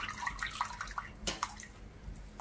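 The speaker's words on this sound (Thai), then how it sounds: "ตักเส้นขึ้นนะคะ แล้วก็เสด็จน้ำออกค่ะ" Cooked rice vermicelli noodles lifted out of a pot so the water drains off, close splashes and dribbling water with a few sharp clinks, no talking.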